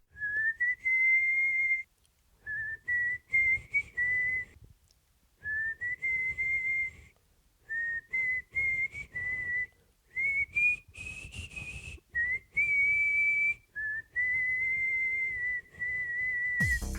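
A person whistles a melody alone in short phrases, clear and close, with brief pauses between them.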